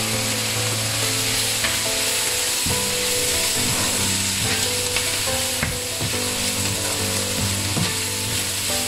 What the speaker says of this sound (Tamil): ஒரு மேசக்கரண்டி உப்பு போட்டுட்டு இப்படி கிளறி விடுங்க